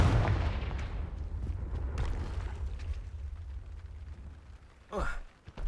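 Confringo fire spell explosion in the Hogwarts Legacy video game, a loud low booming blast that rumbles and fades over several seconds, followed by a brief voice.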